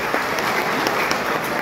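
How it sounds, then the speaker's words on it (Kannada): Audience at a statue unveiling ceremony in Mudalagi applauds the dignitaries and revered guests, a steady dense wash of clapping filling the short moment without pause. "ಎಲ್ಲ ಪೂಜ್ಯರಿಗೆ, ಎಲ್ಲ ಗಣ್ಯರಿಗೆ ಜೋರಾಗಿ ಚಪ್ಪಾಳೆಯನ್ನು ತಟ್ಟುವ ಮೂಲಕ ಅಭಿನಂದನೆ"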